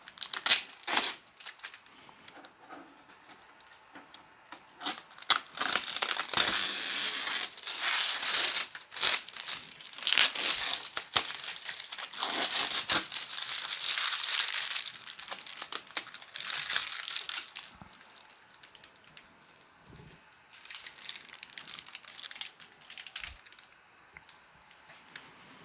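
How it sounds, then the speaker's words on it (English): Protective tape is peeled and crumpled off a Flashforge Creator Pro 2 independent dual-extruder 3D printer, with bursts of crinkling, tearing and crackling that rise and fall close by over long stretches. "we'll go ahead and take the tape off here"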